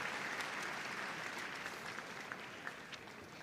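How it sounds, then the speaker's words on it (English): Audience at Crufts 2023 applauds the Hound group best-of-breed finalists, a steady, moderately distant wash of clapping in a large arena hall that continues evenly without any spoken voice. "Can we have a big round of applause, ladies and gentlemen, to all these best of breed winners"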